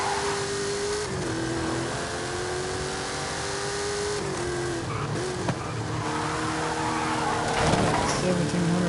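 A 1,750-horsepower car engine in Forza Horizon 5 runs steadily loud, its pitch climbing and dropping through gear shifts, with tire squeal and a brief knock near the middle and a louder surge toward the end.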